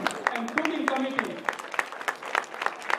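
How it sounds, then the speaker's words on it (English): Applause for the kitchen and cooking committee at a board update gathering: a crowd's steady clapping fills the room with dense, irregular claps at moderate volume, with a voice murmuring underneath. "give a big round of applause to all the kitchen and cooking committee"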